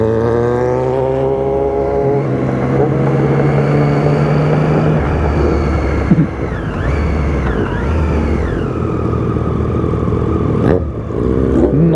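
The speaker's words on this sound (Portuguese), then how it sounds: "Nossa, velho, quanta moto!" A pack of motorcycles rides by on a street in Curitiba, loud engines revving and droning close by, pitches climbing and falling as bikes pass one after another, with no talking.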